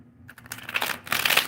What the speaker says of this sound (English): We're going to shuffle these cards for you.